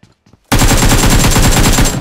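Automatic gunfire in the PUBG Mobile video game breaks out after a brief quiet and becomes one loud, rapid, continuous burst of shots that lasts to the end.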